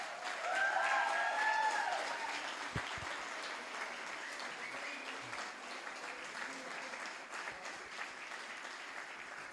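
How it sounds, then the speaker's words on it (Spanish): A church congregation applauds, with dense clapping that swells at the start and then continues steadily across the room, slowly easing off. "Si le quieren dar un aplauso, le damos un aplauso."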